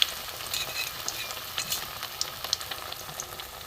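Ash gourd fritters coated in gram flour batter fry in oil over a low flame, giving a continuous soft sizzle broken by small crackles and pops, with no talking.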